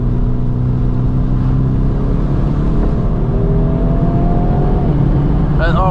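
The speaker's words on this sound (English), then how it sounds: "you click it in neutral, rev it, goes right back into gear" An LBZ diesel pickup truck engine revs in neutral, rumbling loud and close as the pitch climbs steadily, then drops back near the end.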